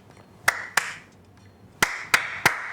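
Sharp hand claps near the microphone, two close together, a pause, then three more in quick succession, used to trigger the music-sync mode of an RGB COB LED strip in a quiet room.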